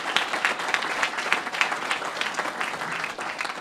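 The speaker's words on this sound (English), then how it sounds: "please just give a warm round of applause for members that are here on my cabinet" Warm applause from an audience at the Boston Police Department's National Night Out luncheon, dense steady clapping filling the room at a consistent loudness.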